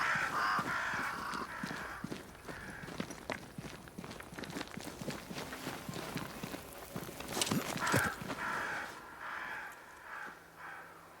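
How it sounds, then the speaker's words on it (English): Crows caw repeatedly in the video game Banishers: Ghosts of New Eden, harsh calls standing out above steady footsteps crunching along, with no speech. "Crows. They flock to that great tree up there."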